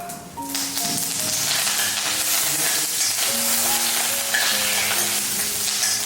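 Jeera and curry leaves crackle loudly as a tempering hits hot oil, with a dense, continuous bright sizzle. It is close and strong throughout, with some faint tonal background sounds and no speech.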